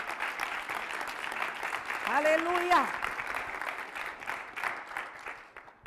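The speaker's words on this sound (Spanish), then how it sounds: "Den un aplauso al que lo merece en esta hora." Congregation applauding during a church service, steady clapping with a voice calling out over it partway through.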